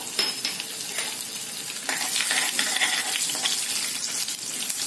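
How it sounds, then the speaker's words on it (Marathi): Cumin seeds and curry leaves sizzle and crackle steadily in hot oil for a tempering over a low flame, a close, continuous frying hiss with sharp pops and no voices. "हे बघा, फोडणी छान तडतडलेली आहे."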